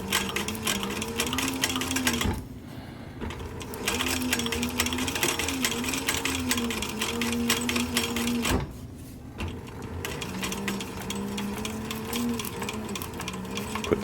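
A sewing machine stitches a military patrol cap in two long motor runs broken by brief pauses, its whirring rhythm close and clear.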